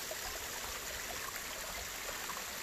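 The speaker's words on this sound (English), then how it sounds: "Love that water trickling." A woodland stream trickles and burbles steadily, a soft continuous wash of running water heard alone at moderate distance.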